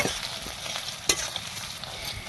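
Sliced onions frying in hot oil with whole spices, a steady close sizzle with occasional stirring scrapes and a sharp clink from a spoon against the pan.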